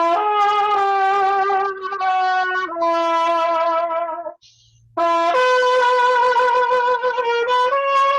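Solo trumpet playing a slow spaghetti Western soundtrack style melody, loud and close with long sustained notes, a brief pause near the middle, then the phrase resumes.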